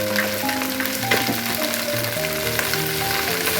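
Salted okra fries and sizzles in a pan while being stirred, a dense steady crackle with scraping stir sounds, close and continuous with no talk.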